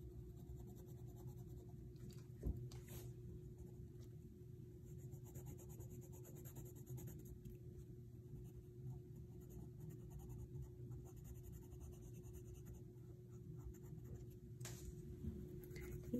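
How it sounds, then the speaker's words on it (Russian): Orange coloured pencil shading autumn leaves on paper, a faint steady scratching close to the ear over a low hum, with one or two small taps. "Я сейчас возьму оранжевый карандаш и немножко добавлю размер"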